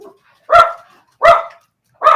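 Three loud, close dog barks ring out at roughly even intervals, each one short and sharp, with silence between them.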